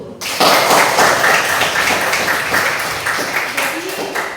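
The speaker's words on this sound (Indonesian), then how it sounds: "Tepuk tangan dulu." A roomful of listeners claps on cue during a talk, loud close applause bursting in after a brief pause and continuing steadily, thinning slightly toward the end.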